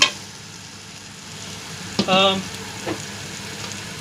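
Onion and tomato fry in a pan with a soft, steady sizzle, while a brief scraping stir and short voice-like sounds break in near the middle.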